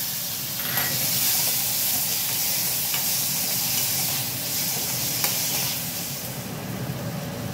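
Mustard seeds, asafoetida, curry leaves and tomato hit hot oil in a pan for a cauliflower sabzi, giving a steady, loud sizzle and crackle with scattered pops throughout, close up and without talk.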